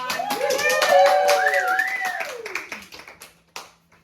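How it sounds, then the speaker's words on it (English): Wedding guests at a mock farm wedding cheering and clapping as the couple is pronounced husband and wife; loud close whoops and voices over a patter of applause that thins out into scattered claps. "Give us a big cheer, everyone."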